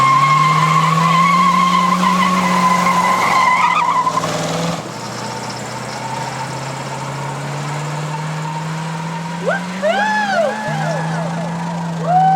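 A car engine revs and roars steadily while tires squeal and screech in wavering bursts, loud and close.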